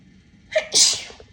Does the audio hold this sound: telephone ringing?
no